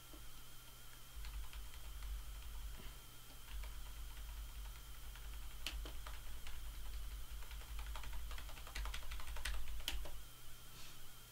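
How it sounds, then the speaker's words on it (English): A computer keyboard is typed on rapidly and continuously while playing an online game, with close, quiet clicky keystrokes and occasional sharper taps over a low steady hum. "Probably can just hear my keyboard spamming away"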